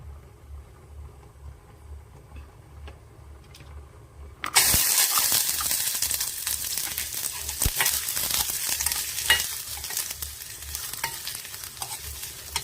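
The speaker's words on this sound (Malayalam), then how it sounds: "നെയ്യിൽ ഈ സവാള ഒന്ന് ഒരു മെറൂൺ കളർ ആവുന്നിടം വരെ ഒന്ന് വഴറ്റിയെടുക്കട്ടെ." Onions hit hot ghee in a pan partway through, and a loud, steady sizzle takes over from a quiet kitchen hum, continuing close up with occasional stirring.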